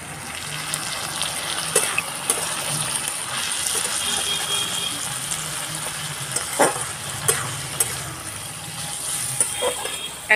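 Vegetables for egg chowmein frying in a hot pan, a steady hiss of sizzling with the scrape and clack of stirring and a few sharp knocks, close up and continuous.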